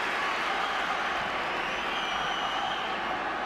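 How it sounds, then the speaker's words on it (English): Scattered applause from Levante players standing to greet Iniesta's arrival during a La Liga football match against FC Barcelona, a steady crowd wash throughout with no clear talk. "Some of the Levante players standing up to applaud Iniesta's arrival"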